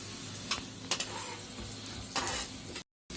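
Onion and garlic sizzle in a pan for dried loitta fish bhuna, a steady close frying hiss with a few sharp stirring scrapes, ending in a brief dropout of silence.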